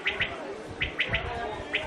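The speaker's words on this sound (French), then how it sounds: "Ils adorent le bruit de ces oiseaux." Caged songbirds at Chorsu market in Tashkent give short, repeated bright chirps and warbling calls in small bursts over a low, muffled market background.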